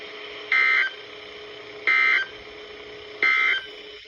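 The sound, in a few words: Emergency Alert System alarm test tones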